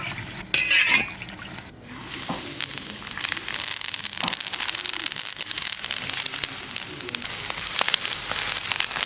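Hot oil poured over garlic slices, chili, Sichuan pepper powder and sesame seeds for a spicy radish pickle, giving a sudden loud sizzle that settles into a steady crackling hiss.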